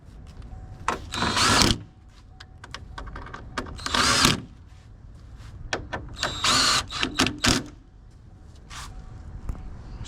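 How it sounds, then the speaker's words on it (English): A power drill whirs in several short bursts while a new car bumper is being fastened on, each spin lasting about a second, with quiet pauses between them. "Grab this drill that I kicked out the way."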